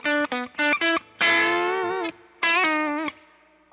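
A Glarry Telecaster-style electric guitar plays a short lead phrase of clipped notes and a long bent, sustained tone, with a distorted, effect-laden sound, loud and up close with no talk.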